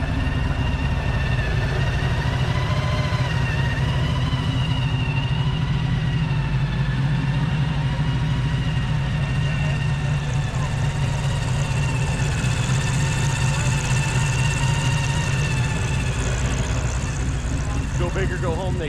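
A supercharged engine topped with an 871 blower idles steadily and loud, a continuous rumbling drone with a whining overtone that holds even throughout, with no talking over it.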